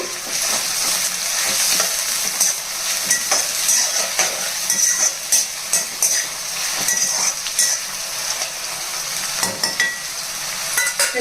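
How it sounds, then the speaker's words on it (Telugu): Onions, slit green chillies and a sprig of curry leaves fry in hot oil in a pan, a steady close sizzle with crackling bursts and occasional stirring clinks, no voice. "ఇవన్నీ వేసి బాగా వేగనివ్వాలండి"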